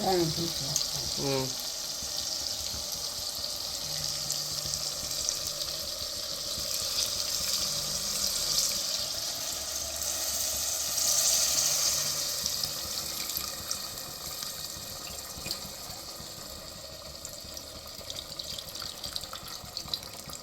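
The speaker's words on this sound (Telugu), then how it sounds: "పులుసు వేసేద్దాం అయితే" Tamarind juice poured into a simmering curry gives a watery splash and rising sizzle that settles into a steady bubbling hiss, with a faint hum underneath.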